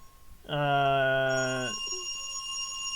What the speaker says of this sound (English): Who'll be calling at this hour? Is it rotary phone?